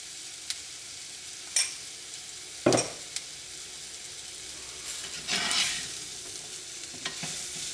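Egg curry with salt and mango is mixed in a pan, giving a low frying sizzle broken by a few sharp scrapes and clacks of a utensil against the pan.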